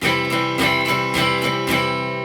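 Guitar chords strummed with the pick sticking out too far, in a steady rhythm, four or five bright, harsh strokes ringing loud and close with a scratchy attack on each stroke.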